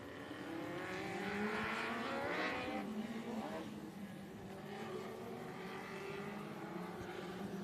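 California Lightning Sprint Cars at Bakersfield Speedway make a faint, distant engine drone with rising and falling revs, heard low in the mix beneath a track announcer's talk.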